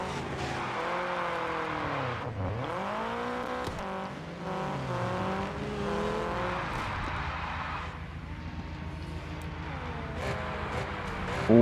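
Drifting car in the Car Parking Multiplayer video game, a venom car, with engine pitch swooping up and down and tire squeal running steadily throughout, loud and continuous with no talk.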